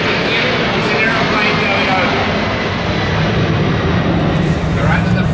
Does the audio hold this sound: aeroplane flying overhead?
yes